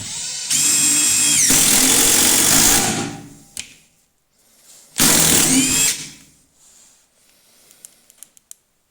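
A Makita DTD172 impact driver set to mode three drives a 4x90 screw. It gives one long, loud hammering burst of about two seconds, then a shorter burst after a pause, with faint clicks between them.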